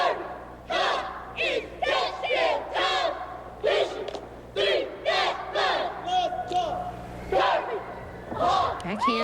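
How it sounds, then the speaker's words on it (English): A high school cheerleading squad at a 1987 national competition yells rhythmic chants in unison, sharp shouted bursts repeating in a steady beat, loud and close, with a crowd around them. "Notice that is the kind of cheer the crowd will yell with."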